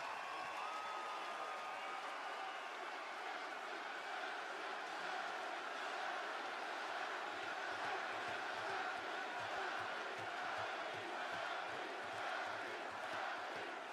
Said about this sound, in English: You always love Sami Zayn in the crowd singing his song